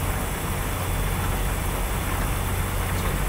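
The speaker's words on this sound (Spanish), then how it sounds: "Es pedazo de lluvia la que los agarró" Steady rain on a Hino 500 truck in a truck-driving video game, a constant dense hiss laid over a low engine drone throughout, with no talk.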